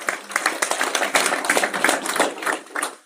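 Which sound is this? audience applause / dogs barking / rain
audience applause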